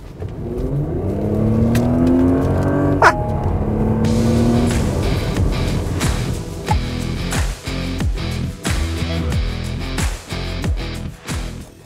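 A Porsche Cayenne E-Hybrid with a combined 455 horsepower accelerates hard, its loud engine note climbing steadily through a gear, then dropping and pulsing through rapid shifts and throttle changes.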